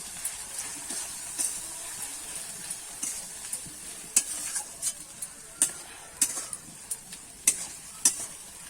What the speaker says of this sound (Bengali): দিয়ে দেবো ধনের গুঁড়ো দিয়ে দেবো জিরের গুঁড়ো দিয়ে কিন্তু আমি ভালো করে এবার মশলাটা কষিয়ে নেব